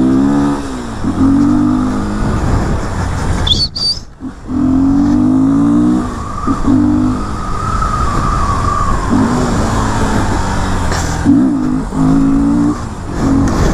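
A Honda XRE 300 motorcycle engine revs hard and repeatedly during a wheelie, pitch rising and falling in waves as the throttle opens and closes, loud and close.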